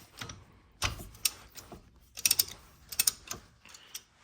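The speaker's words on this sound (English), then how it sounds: "once you get the caliper tool in, you just compress it" Brake caliper piston compression tool being cranked on a Subaru STI Brembo quad-piston caliper, giving a series of short mechanical clicks and ratcheting ticks in uneven bursts, close and fairly quiet.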